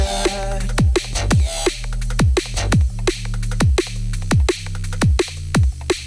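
Punchy synth bass notes repeat in a steady rhythm, each with a sharp attack and a deep sustained low end, loud and alone.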